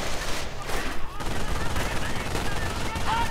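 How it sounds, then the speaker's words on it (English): Machine gun fire in a WWII strategy video game, dense, continuous rattling bursts of automatic fire suppressing troops, loud and close, with other battle noise layered beneath. "lots of machine gun fire, quickly suppressing the American troops there"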